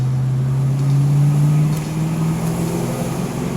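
A 1991 Ford Mustang LX 5.0 in second gear rolls over a set of road bumps, its engine a steady low drone with a slight swell midway, close and continuous with no talk over it.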